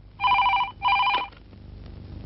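A telephone bell rings in two loud, close bursts with a short gap between them, followed by quieter room background. Part of a Telugu film scene.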